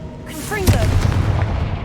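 A Confringo blasting spell in the video game Hogwarts Legacy goes off as a sharp, booming burst just before the midpoint, followed by a rolling low rumble, with a voice speaking briefly over the blast.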